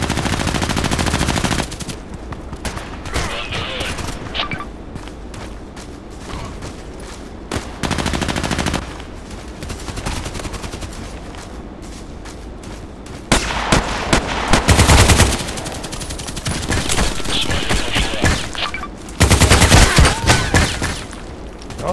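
Weapon fire in the Contract Wars shooter, heard as loud bursts of automatic fire that come and go across the span, with short gaps and quieter stretches between volleys and several heavy, sustained bursts late on.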